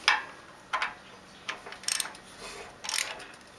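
A ratchet wrench checks bolts on an aluminum pressure washer pump, giving a few short, separate bursts of clicking with pauses between them, close and fairly crisp, no talking.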